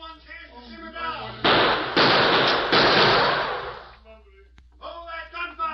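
Staged gunfire in an old western radio drama, heard as a loud, dense crackling volley of shots lasting a couple of seconds, with voices before and after.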